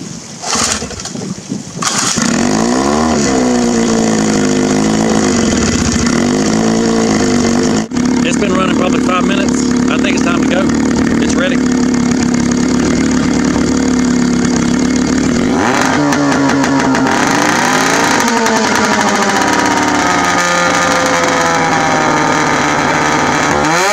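Pull-started outboard motor on a homemade pontoon boat catches after rope pulls and runs loudly and steadily, its engine drone shifting in pitch as the throttle changes, close to the microphone.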